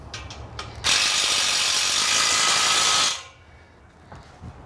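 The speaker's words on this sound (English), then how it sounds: "Now we're going to move to the number 4 Allen wrench extension." A bolt on a comfort swing assembly being tightened with a number 4 Allen wrench extension, a continuous fast ratcheting whir lasting a couple of seconds, close and alone, followed by quiet.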